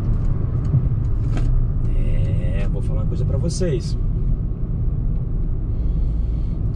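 A 2024 Peugeot 208 turbo hatchback accelerating, heard from inside the cabin as a loud, steady low engine and road rumble, with someone talking over it.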